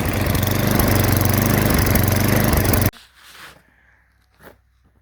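Tecumseh engine on an MTD snowblower running rough on a cheap aftermarket carburetor, loud and close for about three seconds before cutting off abruptly, followed by faint clatter and a short knock.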